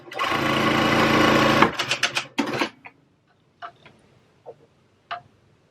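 A sewing machine runs in a fast continuous burst while stitching a hair tool bag, then stops, followed by a few clicks and light handling taps.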